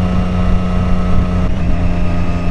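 A 2013 Triumph Daytona 675 with an Arrow exhaust hums steadily at cruising speed, a loud, continuous engine drone mixed with wind rush, with a slight shift in pitch midway.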